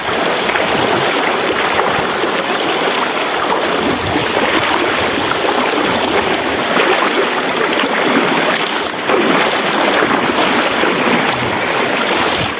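A river rushes past in a loud, continuous wash of flowing water, close and steady with no pauses.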